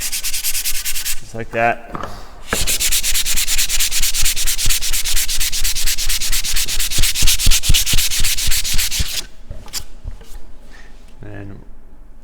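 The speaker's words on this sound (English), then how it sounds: "take some, in this case 120 sandpaper, and sand with the grain" Hand sanding wood filler with the grain using 120-grit sandpaper on a wooden key rack, a loud, rapid scratchy rasping held for several seconds, with brief speech before and after.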